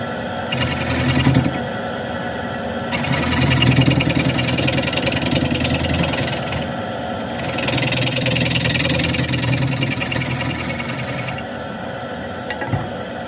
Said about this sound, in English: Square end scraper.